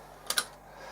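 A chrome cassette tape being inserted into a Technics RS-BX501 cassette deck, two quick close plastic clicks in fast succession over a faint steady hum.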